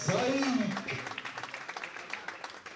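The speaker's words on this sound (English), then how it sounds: "Give a big round of applause for both of our contestants" After a boxing bout ends, a crowd breaks into steady applause that fills the venue, fairly loud at first and tapering slightly, with an announcer's voice heard briefly at the start.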